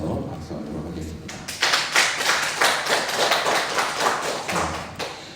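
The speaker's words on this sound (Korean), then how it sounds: "우리 격려하면서 박수하도록 하겠습니다." A church congregation at a Sunday service applauds in a sustained round of clapping that swells and holds for several seconds, close and fairly loud, with a brief murmur at the start.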